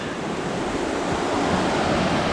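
River with waterfalls and cascades, a steady broadband rush of tumbling water that holds constant and fairly loud throughout, with no voices.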